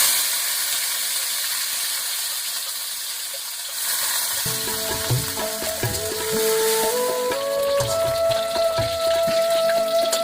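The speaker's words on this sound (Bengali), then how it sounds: "কিশমিশটা ভেজে নিচ্ছি।" Raisins frying in a pan of hot oil give a steady, dense sizzle that swells and crackles after a brief quieter stretch, close and continuous with a faint tonal whine rising beneath it.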